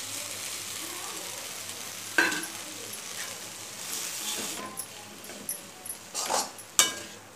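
Sevai being stirred into sautéed tomato in a pan, a steady soft sizzle with occasional scraping and clinks of the spoon against the pan, close and moderately quiet.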